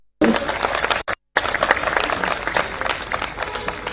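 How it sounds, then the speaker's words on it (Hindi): An audience applauds at a Hindi news event honoring local talent, with dense, steady clapping that continues loudly after a brief gap and sounds like a large crowd. "मैं चाहूंगा जोरदार तालियां बजाएं"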